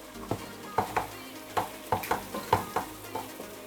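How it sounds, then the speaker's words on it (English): Crayfish powder fries in oil in a pot with a soft, steady sizzle, punctuated by regular clinks and scrapes of a spoon stirring. "There's just something about frying crayfish first"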